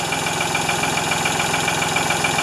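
A Ford 2600 tractor engine runs steadily after a fuel system overhaul, a loud, close idle with an even rapid low knocking pulse and constant mechanical rattle throughout, no voices.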